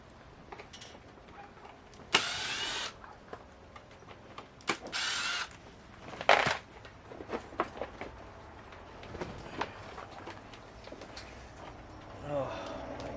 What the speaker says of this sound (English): Oh, we're taking this blower motor out too.